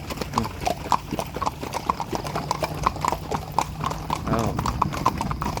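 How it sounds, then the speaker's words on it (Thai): Horses walk around a rural estate in the morning, their hooves clip-clopping in a steady, repeated rhythm close by, with someone talking over parts of it. "บรรยากาศตอนเช้าๆ ที่ม้าเดินรอบโครงการ"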